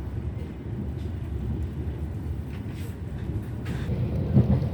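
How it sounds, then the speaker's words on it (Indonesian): Ranggajati passenger train on the Surabaya–Cirebon route pulling out of Purwokerto station, a steady low rumble of wheels and engine rolling on without pause, close and continuous. "kereta api Ranggajati diberangkatkan kembali dari stasiun Purwokerto tepat waktu"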